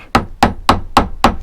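A hammer strikes a screwdriver to reshape a part during a Suzuki GT750 fork refurb, five sharp, evenly spaced metallic blows, loud and close with no talking.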